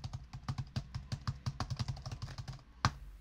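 Quick, steady keystrokes on a computer keyboard resting on a cloth, close-up with slightly muffled clicks and one sharper final tap, picked up by a budget WATTS condenser microphone with no voices.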